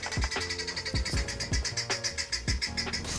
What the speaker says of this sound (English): Oh, it's a guinea fowl.